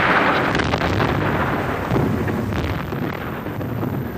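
Artillery barrage from the Italian campaign of WWII: a dense, continuous rumble of overlapping explosions and deep booms, loud and sustained the whole time with no gaps.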